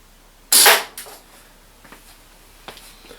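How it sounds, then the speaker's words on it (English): A single sharp CO2 shot from an Umarex Elite Force H8R revolver fired in single action rings out close and loud, followed by faint small knocks and handling noises. "Let's take a spotting shot first, so I'm just going to aim dead centre."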